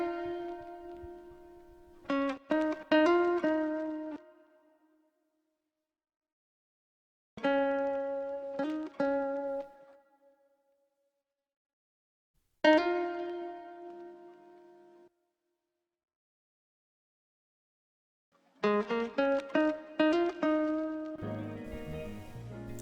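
Guitar loop used as texture in an R&B sample, heard as three short bursts of plucked, harmonic-rich phrases separated by silences, with a busier final phrase where low accompaniment joins near the end.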